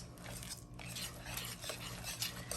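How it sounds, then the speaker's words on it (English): A whisk stirs egg into churro dough in a bowl, giving soft close scraping and light clinks of metal against the bowl over a few seconds. "stir a little bit"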